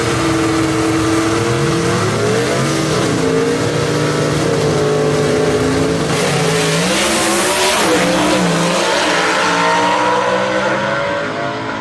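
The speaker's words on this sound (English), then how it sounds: "Gabriel Burrow hits third gear and he checks out on Barry Lynn." Gasser drag race cars tear down the strip at Knoxville Dragway, engines roaring loud and continuous with rising revs and gear changes, a dense racing drone that swells mid-run and holds to the end.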